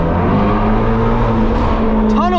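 A Ford Shelby GT350's engine roars loud and close inside a tunnel, a sustained deep droning rev with an echoing rise in pitch near the end, while a voice talks over it.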